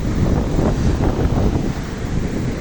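Loud, steady rush of wind buffeting the microphone over high, rough sea waves and churning water, continuous throughout with no voices.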